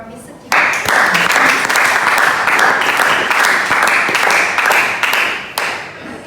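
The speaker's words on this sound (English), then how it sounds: "can give applause for Miss Suci" Audience applause follows a student presentation in an academic speaking class, steady loud clapping from a group that starts abruptly and keeps going for several seconds before easing slightly.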